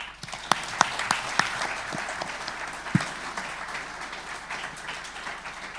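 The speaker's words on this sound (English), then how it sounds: "nice round of applause" An audience at a boxing press conference in England gives a round of applause, brisk clapping that starts with a few sharp claps and settles into a steady moderate patter, without speech.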